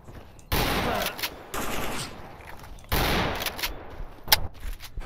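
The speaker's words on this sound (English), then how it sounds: "Oh my god, I'm getting shot from all directions." Gunfire in the STALKER Anomaly video game, with loud bursts of automatic fire arriving in sustained volleys and sharp single cracks in between, heavy and close.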